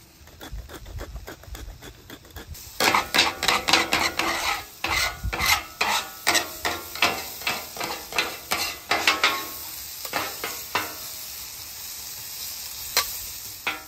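Onions scraped and pushed around on a hot griddle for a pub-style burger, a rapid series of loud rhythmic metal spatula scrapes over steady sizzling, easing off near the end.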